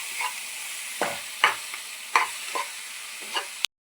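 Chicken pieces and well-browned onions fry in a pan, giving a steady close sizzle with a few stirring scrapes and clinks along the way until it cuts off abruptly.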